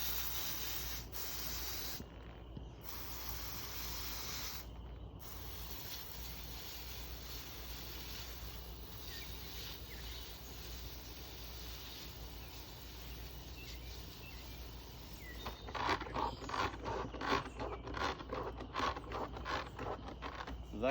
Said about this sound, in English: I just have a manual 4-gallon pump sprayer.